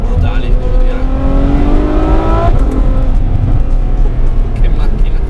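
A Ferrari F12's V12 engine revs hard during a test drive, climbing in rising sweeps through the gears, loud and close inside the car, with a voice talking over it.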